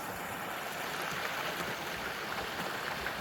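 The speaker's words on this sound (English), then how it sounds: "Don't get excited, it's not a waterfall, it's a culvert on the road" Water rushes steadily through a road culvert beside a snowy hiking trail in Pennsylvania's Black Forest, a constant broad hiss of flowing water with no pauses.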